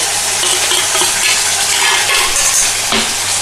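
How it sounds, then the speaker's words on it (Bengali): Grated tomato puree hitting hot spiced oil in a pan for a Bengali sesame-oil katla fish curry, producing a loud, continuous bright sizzle and hiss with faint splattering pops. "এবার আমি দিয়ে দেবো টমেটো পিউরি"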